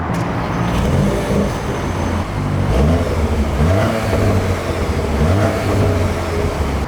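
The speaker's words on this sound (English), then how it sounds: "You get the stock burbles, which is nice." A car engine starts and idles with stock exhaust burbles, a close, loud low rumble with a few rising rev swells and crackling pops, no talk over it.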